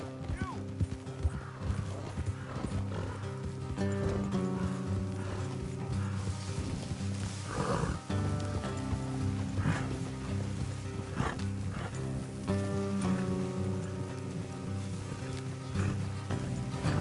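Steady clip-clop of horse hooves at a walking pace in Red Dead Redemption 2, under a constant musical score, with a brief voice breaking in midway.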